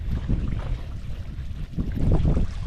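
Wind gusting outdoors on a cold farm at 22 degrees with wind chill, a loud rumbling rush buffeting the microphone that swells and eases in gusts, with no voices.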